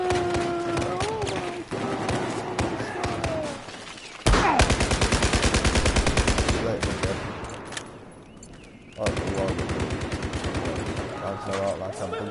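Gunfire in the video game Battlefield 4, rapid machine-gun bursts and fusillades, loud and rhythmic, with someone talking over parts of the shooting.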